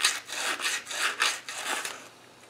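Rhythmic rasping strokes of hand sanding JB Weld on a Rover 3500 steering box, about eight back-and-forth passes, close and moderately loud, fading at the end.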